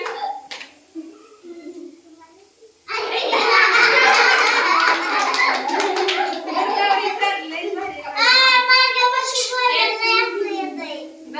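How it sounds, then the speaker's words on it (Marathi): Children clap their hands together in a group, a burst of dense, rapid claps mixed with excited kids' voices and shouting, loud and close, after a quieter stretch of scattered talk. "टाळ्या वाजवा."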